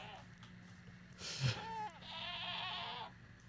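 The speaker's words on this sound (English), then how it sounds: "We are alive with our screaming goats." Screaming goats in Minecraft let out a loud, wavering bleat that breaks into a shrill, drawn-out scream lasting over a second. A quieter game bed sits underneath.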